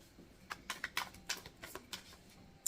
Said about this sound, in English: give me 4 cards, please, for this message. Shuffle.